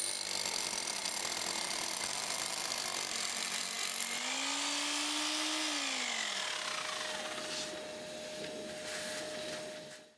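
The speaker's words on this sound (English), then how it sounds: "Drill vertically." A power drill grinds steadily into a concrete floor, drilling vertically for the anchors of a two-post car lift, its motor whine rising and then dropping in pitch before it trails off.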